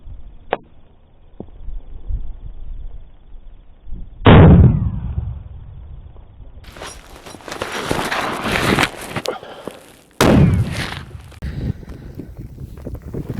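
A Soviet RG-42 WW2 hand grenade detonates outdoors, a sharp heavy blast that rolls away. A second loud burst follows about six seconds later, with wind buffeting the microphone in between.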